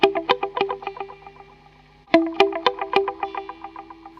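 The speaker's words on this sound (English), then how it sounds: "one of the endearing characteristics of the Meazzi echo units, whether tape or drum based, is the way that when driven hard they add quite a bit of distortion" A TVS3 echo unit emulating a Meazzi PA306 echo is driven hard into distortion. Two gritty struck notes each trail off into a fast, evenly spaced string of fading repeats.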